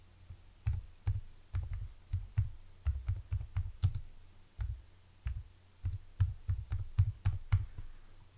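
Keys clatter on a computer keyboard as a title is typed, a steady run of sharp, close clicks in uneven bursts with short pauses, no voices.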